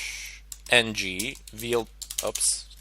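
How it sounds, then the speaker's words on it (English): Fingers tap out a terminal command on a computer keyboard in quick, uneven bursts of close clicks while someone talks over the keystrokes. "let me just go ahead and type in airmon-ng"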